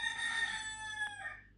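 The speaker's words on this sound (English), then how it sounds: "Did you hear that rooster just crow?" A single rooster crows once, clear and fairly close, its call rising and then trailing off.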